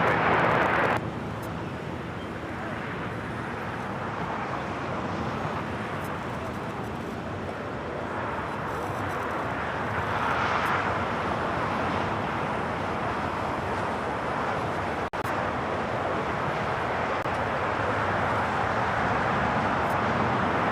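An airliner takes off from runway 25 right at LAX, a steady broad engine roar holding loud and continuous throughout, with wind and distant traffic noise blended in.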